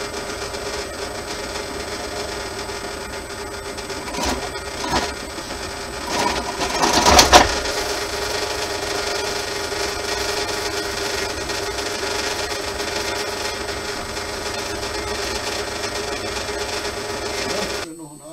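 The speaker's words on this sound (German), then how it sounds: "Ich werde mal die Maschine einschalten" An Ulmia woodworking machine with its dust extraction running gives off a steady, even drone for the full length, with a couple of brief louder bumps early on.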